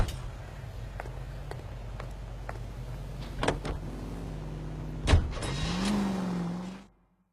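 A car is driven in the game L.A. Noire. The engine hums low and steady, a sharp knock lands midway, then it revs up and fades out, ending in silence.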